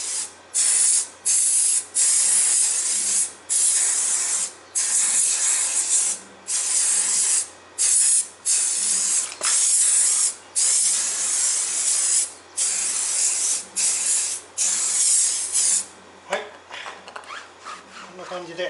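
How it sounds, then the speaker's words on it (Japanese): Silicone spray hisses onto a Subaru Sambar kei truck tire in repeated loud bursts, each about a second long with brief gaps between them, continuing steadily across the stretch. "あとはシリコンスプレーを"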